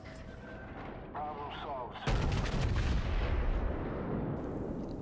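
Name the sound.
naval shellfire from the Amagi in the video game World of Warships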